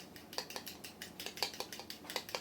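Two eggs whisked quickly in a bowl, a fast steady run of light metallic clinks from the whisk hitting the sides, close and fairly quiet.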